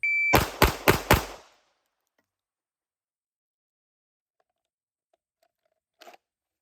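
Four sharp pistol shots from a Smith & Wesson M&P 2.0 fitted with an Apex Flatty trigger ring out in quick, even succession, loud and close, followed by near silence and a faint brief beep.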